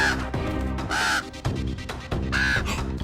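Repeated harsh caws from a cartoon raven sounding a warning, several loud calls in bursts over a busy animated soundtrack with music.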